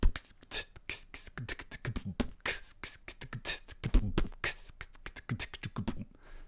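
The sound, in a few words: vocal beatbox imitation of a chiptune groove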